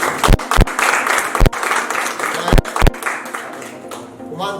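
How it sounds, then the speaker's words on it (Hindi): Loud applause breaks out at an award show ceremony, a thick roar of clapping punctuated by a few sharp, heavy claps close to the microphone, easing off slightly toward the end. "होगी जोरदार तालियां"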